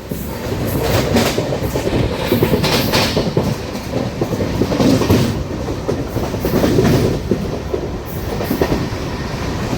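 The 22618 Intercity Superfast Express from Bengaluru to Tirupati rolls along between Pakala and Tirupati, with a loud, steady rumble and rhythmic clickety-clack of wheels on rail joints heard close from inside the train.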